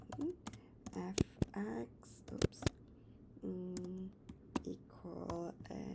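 Keys on a TI-Nspire calculator are pressed in a scattered series of sharp, close clicks, heard under a man's speech.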